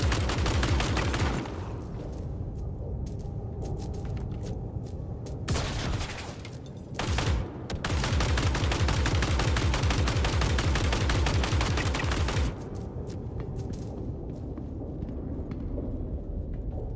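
Video game gunfire in rapid automatic bursts, loud and dense, with several long sustained volleys broken by short pauses and quieter stretches between them.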